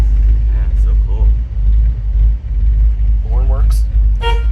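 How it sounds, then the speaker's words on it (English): A 1956 Ford F100 4x4 Stepside pickup with a 390 engine idles with a heavy low rumble while its horn gives a couple of short toots, one near the end, with people talking close by. "Horn works."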